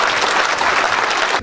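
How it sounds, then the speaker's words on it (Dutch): Loud, dense applause from a crowd at a SamenLoop voor Hoop kick-off event, a continuous wash of many hands clapping hard and evenly for the whole stretch. "Geef een keihard applaus."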